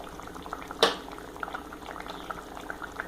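Tuna fish curry made with roasted coconut bubbles at a rolling boil in a pot, with soft continuous simmering and frequent small pops and plops heard up close.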